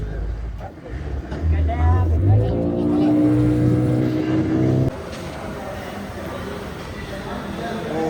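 A ferry's engine runs near Dwarka, a loud low motor drone that builds up and holds steady. Voices talk throughout, and the engine noise drops a little toward the end.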